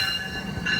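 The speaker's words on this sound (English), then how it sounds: "we got an extra rail train pulling in" Commuter rail train pulling into Dorval station in Quebec, a steady mechanical rumble with faint high wheel squeal riding over it, fairly close and continuous, with no voices.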